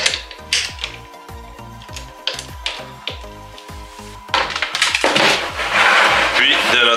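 Ratchet wrench with an extension and a 10 mm socket working the oil drain bolt on a Widescape WS250, loud rapid clicking strokes repeated in bursts, growing busier and louder toward the end.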